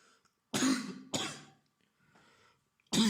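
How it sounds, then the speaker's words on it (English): A man with a cold coughs three times in a bedroom, each cough close and sharp, the first two about half a second apart and a third after a quiet gap, with faint breathing between. "he coughed a few times."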